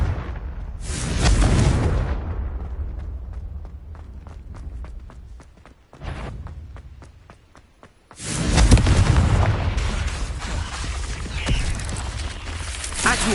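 Confringo fire spell explosions in the Hogwarts Legacy video game, loud booming blasts with rumbling tails, one early, a short hit near six seconds and a long roaring burst from eight seconds on.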